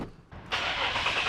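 A tuned car engine cranks and fires up, the starter whir giving way to a loud, steady rumble at close range.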